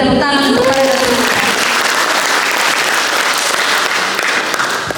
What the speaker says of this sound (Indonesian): Mari kita tepuk tangan untuk para dosen kita.